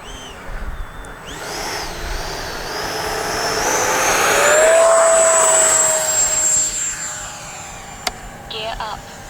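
An FMS Futura 80mm V3 RC jet plane comes in to land with a whining jet tone that swells, shifts in pitch and then fades, while a person talks nearby.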